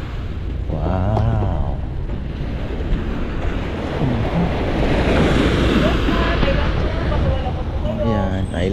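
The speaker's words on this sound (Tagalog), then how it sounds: "Tingnan natin yung dagat nila dito." Sea waves wash along the shore at El Nido, Palawan, a steady broad surf roar with wind buffeting the microphone and a brief engine-like hum near the start.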